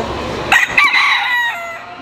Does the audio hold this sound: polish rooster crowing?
yes